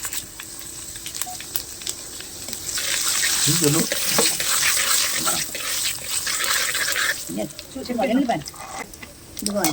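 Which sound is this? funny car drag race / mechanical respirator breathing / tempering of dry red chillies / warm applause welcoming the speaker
tempering of dry red chillies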